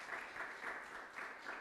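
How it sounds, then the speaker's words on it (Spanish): A church congregation at a Sunday service applauds, a faint, distant patter of steady clapping over a brief moment. "Amén, aplaudan."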